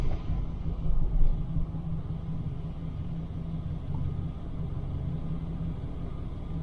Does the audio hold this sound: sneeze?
no